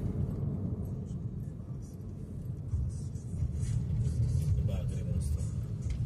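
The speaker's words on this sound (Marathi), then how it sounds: "जाताना मध्ये खूप खूप गाड्या" Road traffic with many vehicles passing, a steady low engine rumble and tyre noise that swells and fades as cars and buses go by, fairly distant and continuous.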